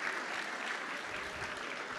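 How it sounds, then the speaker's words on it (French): Audience applause, a faint, even wash of many hands clapping, distant and steady for its short duration. "Ça mérite aussi des applaudissements."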